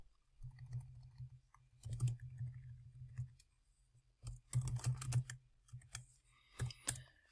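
Keys on a CAS graphing calculator's keypad are pressed in quick bursts of soft, close plastic clicks, separated by short pauses.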